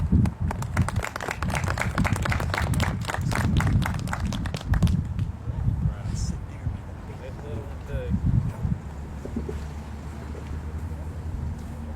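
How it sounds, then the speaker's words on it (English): Applause from an outdoor pro-life prayer rally crowd, a few seconds of brisk clapping over wind rumble that fades out, leaving windy ambience with distant voices. "Please give a round of applause to Pete."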